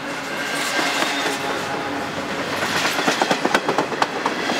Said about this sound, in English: And here comes the end of this train.